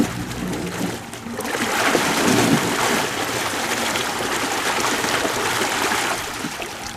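An AquaBlaster pond muck blaster runs submerged in a pond, making a steady, continuous rushing and churning of water that stays fairly loud throughout, with no voices.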